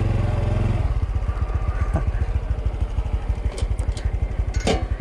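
A Honda CT125 motorcycle rides a scramble track, its single-cylinder engine chugging in a steady, close pulsing rhythm with brief higher clatters near the end; no talk.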